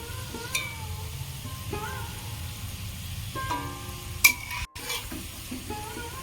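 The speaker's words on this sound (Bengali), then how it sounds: "এক পিঠ হালকা ভাজা হয়ে গেছে এবার আমি উল্টে দেব" Potato snacks fry in oil with a steady low sizzle, while a utensil occasionally scrapes and clinks against the pan.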